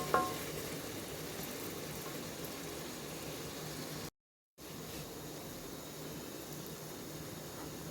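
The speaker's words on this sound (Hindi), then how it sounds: "अब इसको हम अच्छे तरीके से भूनेंगे" Masala frying in a pan for a cauliflower and meat curry gives a steady, close sizzle with a soft boiling bubble. It runs unbroken apart from a brief silent gap midway, and no one speaks.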